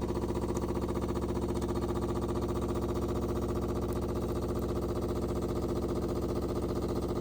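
Philips 5400 coffee machine running its descaling program, a steady close mechanical hum with a regular pulsing pump rhythm that runs unbroken throughout, with no voices.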